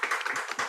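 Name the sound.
clapping by panelists in the room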